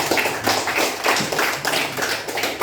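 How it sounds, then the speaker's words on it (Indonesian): A classroom of children claps together at an elementary school, brisk, uneven bursts of hand claps close by, loud and continuous for under three seconds with no voices over them. "Tepuk tangan untuk kita semua ya"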